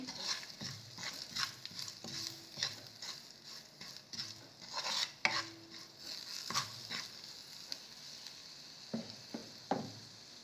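Dal, potatoes and salt are stirred together in a pan, producing quiet rhythmic scraping and soft sizzling strokes of a spoon, fairly faint and close, with no talking.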